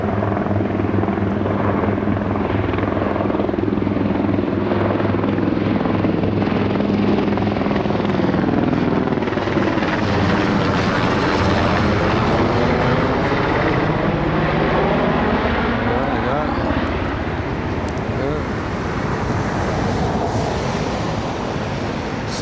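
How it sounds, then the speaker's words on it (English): A large firefighting helicopter with a built-in water system, working a wildfire above North Bend, British Columbia, passes overhead, its rotor thudding loud and steady throughout while the pitch swoops as it passes. "This is just a great whopping helicopter is what it is."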